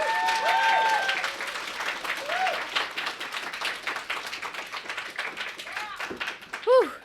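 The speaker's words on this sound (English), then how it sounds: "Round of applause." An audience at a lecture claps and applauds to welcome a speaker to the stage, a dense patter of many hands that gradually thins, with a voice briefly heard early on.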